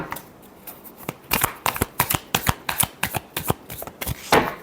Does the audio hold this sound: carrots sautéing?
no